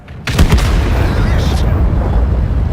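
A World of Tanks cannon shot fired from an E-100 into an IS-7's upper turret plate: one sudden loud boom followed by a rumbling, sustained roar that fades slowly.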